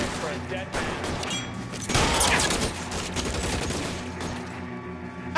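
Gunfire rattles through a shootout in the video game L.A. Noire, with dense overlapping shots and a louder burst in the middle, while a voice speaks over it.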